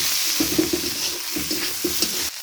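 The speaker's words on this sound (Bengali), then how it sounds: "দিয়ে দিচ্ছি মটরশুঁটি, বাদাম, লঙ্কার গুঁড়ো, জিরের গুঁড়ো, হলুদের গুঁড়ো, সব কিছু একসঙ্গে ভালো করে মিশিয়ে নিচ্ছি।" Peas, nuts and chilli, cumin and turmeric powders being stirred together in a hot pan for vegetarian khichuri, with a steady sizzle beneath repeated scraping strokes of the spoon, close and clear.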